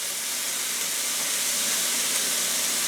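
Meat sizzles in hot oil in a pan on high heat, a steady, loud, dense hiss that holds unbroken throughout with no talking.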